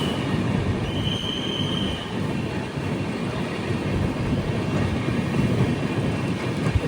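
Kashi Tamil Sangamam Express runs on rails toward Villupuram, heard from on board as a continuous loud rumble of wheels with a brief thin squeal early on.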